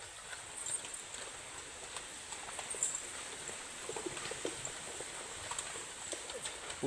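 Faint, scattered hoof clip-clops from five black horses moving at a distance, barely rising above a steady background hiss.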